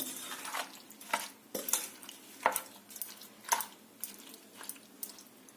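Whole fennel, fenugreek, carom and nigella seeds are stirred together with chili for a winter chili pickle, making a repeated scraping and rustling every half second or so, fairly close and moderately loud.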